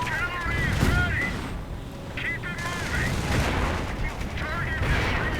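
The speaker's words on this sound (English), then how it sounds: "Mortar rounds going off left and right." Mortar rounds burst again and again in a WWII strategy video game, with heavy booming explosions and gunfire crackling through a dense, loud battle din while someone talks over it.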